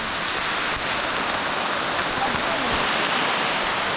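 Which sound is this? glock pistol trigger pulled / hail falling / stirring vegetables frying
hail falling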